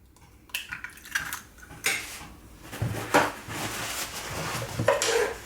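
An egg is cracked into a bowl of peanut butter and the mixture is stirred, giving close, quiet clinks and scraping knocks of a utensil against the bowl in an uneven rhythm.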